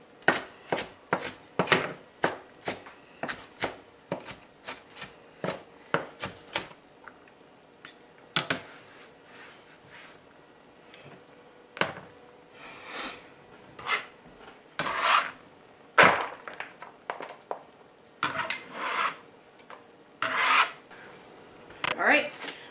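A knife chops summer sausage and hearts of palm on a cutting board for pasta salad, giving a close, steady run of quick, sharp taps with brief pauses and no talking.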